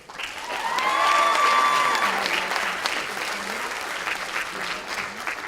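Warm applause from an audience at a school Christmas choral festival, honoring the choir's seniors, swelling quickly and then tapering into a steady patter of clapping over about five seconds, with no talk.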